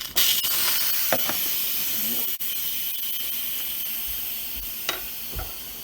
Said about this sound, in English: there's our steam and all of our pressure.